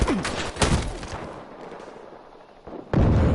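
Explosions and gunfire in the Battlefield Hardline video game, loud bursts at the start, a heavy crack after half a second, a fading rumble, then another loud blast near the end, with no talk.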